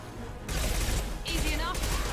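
Impact shot gunfire from Mass Effect 2, a burst of broadband blasts starting half a second in and running steadily to the end, loud and close, with brief synthetic whirring flourishes near the middle and end.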